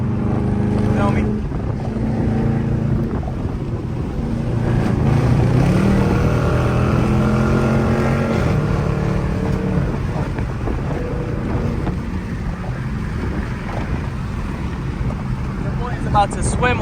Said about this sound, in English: My fault if y'all hear a lot of wind noises and stuff. I got both of the windows down so y'all can hear the car.